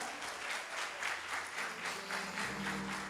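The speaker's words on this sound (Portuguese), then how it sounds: "Então eu quero uma salva de palmas para vocês que estão aqui." Audience applause from a crowd at a live event, steady dense clapping throughout with no talk over it.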